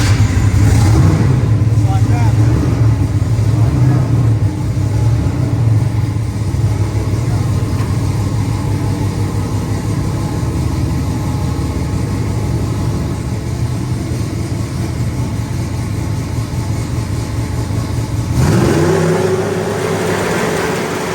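A vehicle engine cranks and runs steadily, loud and close, with a rougher rev near the end, while people talk over it.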